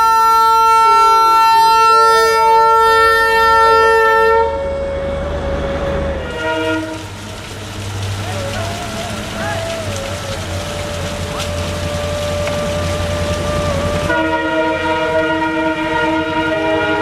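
Indian Railways train passing in rain, its multi-tone horn blaring loudly for several seconds, then heavy wheel and carriage rumble, then the horn sounding again near the end.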